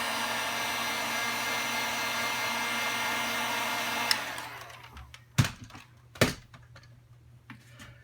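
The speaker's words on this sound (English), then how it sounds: "Slide your heat shrink up over both pieces, and with a heat gun" A heat gun blows steadily while shrinking heat shrink tubing over a helmet ear jack wire splice, a loud continuous hot-air roar that cuts off about halfway, followed by a few sharp handling clicks and knocks.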